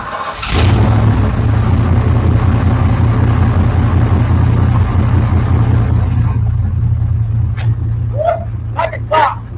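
Foxbody Ford Mustang engine cranking and firing up, then settling into a loud, steady, lumpy idle rumble close by, with a slight header leak noted; brief speech breaks in over the idle near the end.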